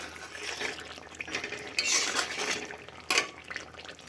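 Chicken stir-fried in a pot for biryani, with a spoon scraping and clinking against the metal over a faint sizzle, plus a couple of sharper clanks near the end; no talking.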